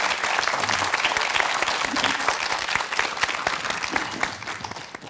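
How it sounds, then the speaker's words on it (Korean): A studio audience on a Korean morning talk show applauds to thank a rheumatology specialist after his lecture, dense sustained clapping from many hands heard close and loud, tapering slightly toward the end. "박수로 강의 감사의 인사 전하겠습니다"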